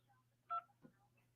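A single telephone keypad DTMF tone pressed to choose an option in a truck rental company's automated phone menu, one short clear beep over a low line hum, followed by a faint murmur.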